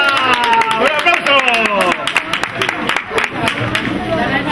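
Clapping from a small gathering at a Cruz de Mayo event in Churriana, scattered hand claps mixed with loud, excited voices and chatter that carry over the clapping.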